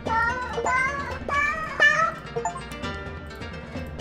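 Cartoonish cat meows from the video game 100 Asian Cats, several rising and falling calls in a loose series, loudest early on, over a steady game soundtrack.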